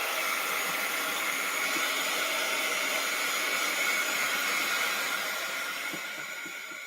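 A dryer blows steadily on a painted art journal page, a continuous hissing whir held close and even before easing off slightly at the end.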